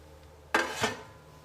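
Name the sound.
tomatoes being put into a thick cooking pot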